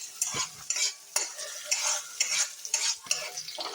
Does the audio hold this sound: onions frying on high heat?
yes